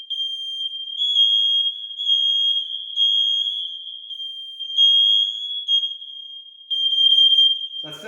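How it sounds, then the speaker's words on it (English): A household carbon monoxide detector alarm beeps in a rapid, continuous run of shrill electronic pulses, loud and close indoors, ending with a short burst of other noise at the very end. "So that second beep, that's carbon monoxide."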